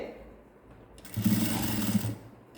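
Sewing machine stitching along a folded fabric strip for a V or hook-style band, a steady mechanical whir lasting about a second after a quiet start, with no talk.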